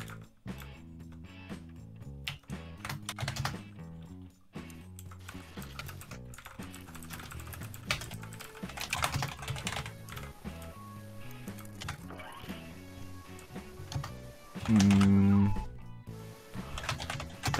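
Loud, clattering computer keyboard typing in bursts of rapid keystrokes with short pauses, close to the microphone, along with other muddled background sounds.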